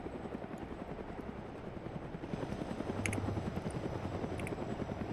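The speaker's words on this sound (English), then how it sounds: "Shoot at the heli." Helicopter in Arma 3 beating with a rapid, continuous rotor chop that grows slightly louder as it nears, with a few brief higher game sounds over the drone.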